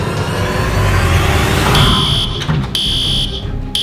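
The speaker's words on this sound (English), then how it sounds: "Everybody evacuate. That's the fire alarm." A school fire alarm sounds loudly in a detention room, a continuous harsh tone that turns into repeated on-off electronic beeps near the end, with no one talking.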